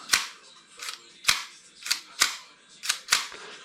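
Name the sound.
airsoft pistol slide cycling back into place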